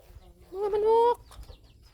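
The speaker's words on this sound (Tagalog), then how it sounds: "Mga manok dito sa ilalim." Chickens on a farm let out a short, loud clucking burst of about half a second, close by, with faint background rustle before and after.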